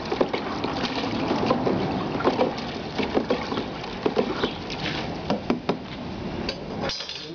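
Dye and binder are stirred by hand in a tub of water, giving repeated sloshing and clunking knocks in an irregular rhythm, close and fairly loud.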